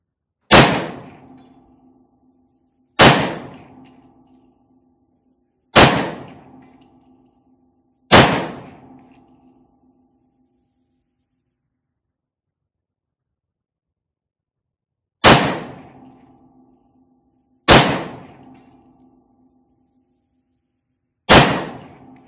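A VHS-2 rifle fires six sharp, loud shots at steel targets 200 yards away, each crack trailing into a ringing decay, four in a steady rhythm, then a long pause before two more.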